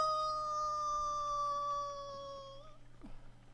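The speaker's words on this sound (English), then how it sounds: "Wild dogs." Wild dogs howl from outside during a lunar festival, long wavering cries gliding slowly downward for nearly three seconds before breaking off, then a few short yelps, faint and distant.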